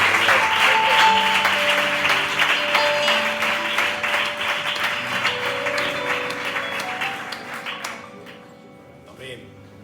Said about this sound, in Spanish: Y le damos un aplauso al Señor en gratitud.